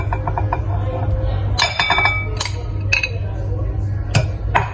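Chicken being mixed into cream cheese in a bowl with a spoon, giving light clinks and scrapes against the dish at irregular moments over a steady low hum, close and moderately loud.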